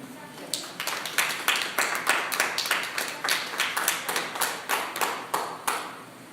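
A church congregation claps in a steady, rhythmic beat, about three claps per second, sustained and fairly close.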